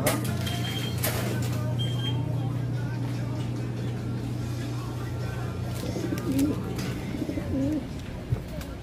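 Soft pigeon coos over a steady low engine hum, with a voice talking in the background.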